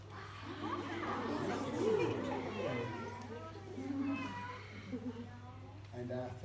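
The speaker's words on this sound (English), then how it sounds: "My second friend is a cat." A cat meows amid children's chatter, with a few clear mewing calls rising over the background voices and a constant low hum.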